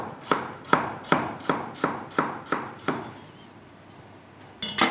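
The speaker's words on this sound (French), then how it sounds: "Et maintenant, vous le découpez, mais alors je vois très finement." A chef finely chops a vegetable with a knife on a cutting board, eight crisp, evenly spaced strokes close up. A short pause follows, then a last clatter of the blade.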